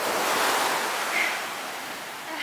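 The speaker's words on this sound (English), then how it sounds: "I was really afraid of these waves." Ocean waves break and wash at a surf beach in Kuta, Bali, a loud, steady roar of surf with wind buffeting the microphone and no voices.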